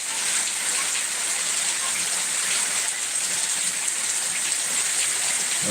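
Heavy monsoon rain pours down in a dense, unbroken hiss, loud and close throughout, with water rushing beneath it and no talking.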